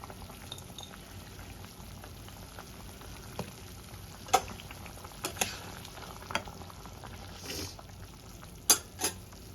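Chana dal gravy with potato bubbling in a pot, a faint steady simmer with scattered soft pops and blips, heard alone.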